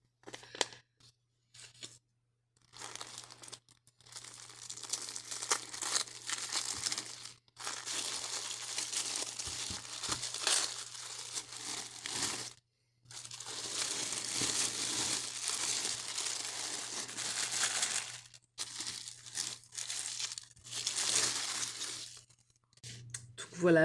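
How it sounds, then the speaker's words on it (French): Paper or plastic packaging around a notebook crinkles and rustles in close bursts, broken by short pauses and set against a low steady hum. "Donc on va déballer ensemble."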